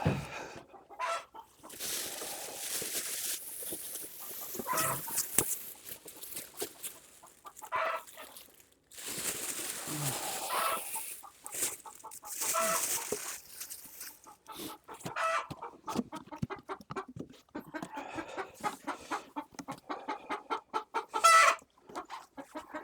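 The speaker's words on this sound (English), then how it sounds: "Noisy chickens." A flock of homestead chickens clucks and squawks steadily nearby in cold weather, with busy overlapping calls and a louder burst near the end, no talking.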